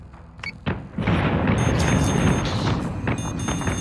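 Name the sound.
torpedoes exploding in Battlestar Galactica Deadlock video game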